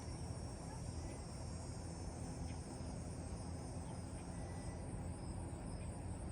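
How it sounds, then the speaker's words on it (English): Cicadas calling loudly in hot summer weather, a dense continuous buzzing drone that holds steady and unbroken throughout, with no voices over it. "The cicadas are shouting."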